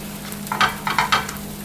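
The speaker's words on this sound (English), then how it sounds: "and get it nice and crispy" A cheese-filled tortilla fries in a pan with a soft steady sizzle, and a few crisp scraping bursts as it is pressed and turned; no voices.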